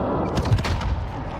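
Gunshots in the video game Warzone, a short burst of several sharp, loud shots in quick succession that ends abruptly, with no voices.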